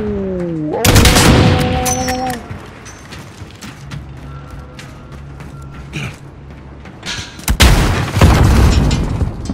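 Grenade blast in Call of Duty: Modern Warfare Gunfight, a sharp loud boom near the start after a few rising tones, with mechanical clatter, then a second heavy burst near the end.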